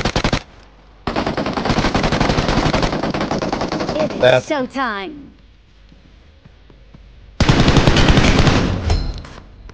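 Sustained automatic gunfire from the video game PUBG Mobile rattles in long, loud rapid bursts, one stretching across several seconds and another near the end, with a voice speaking briefly between them.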